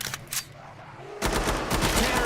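Gunfire from the hip in Killing Floor 2: a few quick shots at first, then a dense, loud burst of rapid automatic fire after a short lull.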